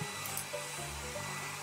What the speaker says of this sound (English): Now to get the hair dryer onto it.